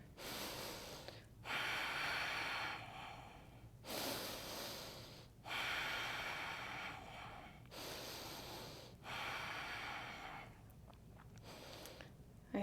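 Slow, deep breathing held in a yoga low lunge: long airy inhales and exhales alternate in a steady rhythm, close and fairly loud, with brief quiet pauses between breaths and no talking.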